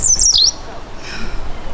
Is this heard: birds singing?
yes